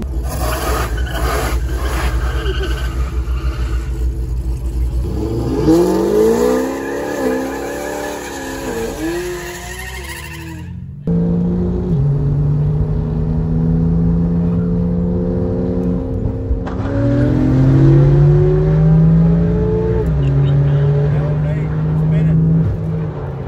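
Street grudge race cars roar off from a rolling start, with rising engine revs, brief tire squeal and cars passing close by. A sharp cut is followed by another loud run, and people talk over the engines.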